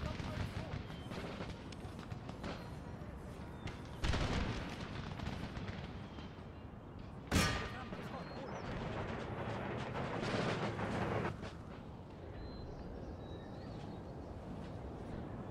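Cannon fire in a battle in Empire: Total War, with several heavy booms, the strongest around the middle, over a constant din of combat noise; a voice talks over the battle.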